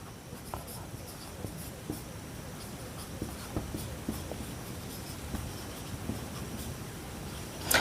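A pen writes out a maths solution on paper, with soft scratching strokes and small taps repeating steadily at close range, no voices.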